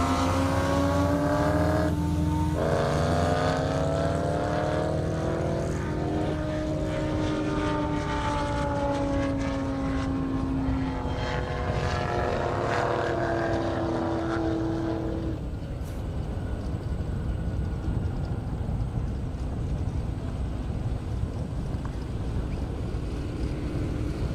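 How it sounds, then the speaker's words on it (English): A Lamborghini Huracan and a Ford GT500 run at high speed on a half-mile airstrip: loud engine roar with rising, sweeping tones as the cars pass close, then it fades to a steadier, duller rumble in the distance. "Julian Vassar, Huracan, Glenn Griffiths, GT500"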